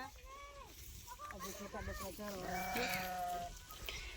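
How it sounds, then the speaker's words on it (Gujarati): Several sheep and goats bleat one after another, close and fairly loud, with wavering cries overlapping in an open outdoor setting. "જો મિત્રો ઘેટા બકરા ચરે છે"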